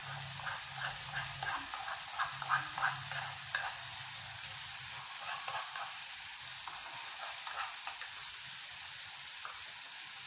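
Masala paste for an Assamese tamarind fish curry fries in a pan with a steady, close sizzle, and utensil clinks and stirring scrapes sound over the first few seconds.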